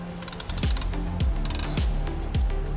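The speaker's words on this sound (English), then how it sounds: "Now that the springs are installed, you can compress the springs." A spring compressor cranks down Polaris RZR PRO XP4 suspension springs with a repeating metallic ratcheting and clicking, four or five regular strokes, with tonal creaks and taps close up.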